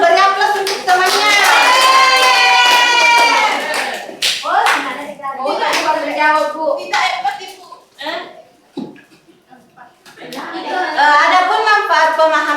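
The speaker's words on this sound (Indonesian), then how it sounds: "Beri aplaus untuk temannya." A classroom bursts into brisk applause for a student who answered correctly, loud clapping for several seconds, then a teacher speaks before another round of clapping.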